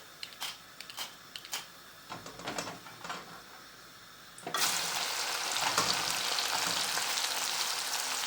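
Dry fish frying in hot oil, a dense steady sizzle that bursts in loudly about halfway through after scattered clinks and stirring sounds, close and continuous with no talk.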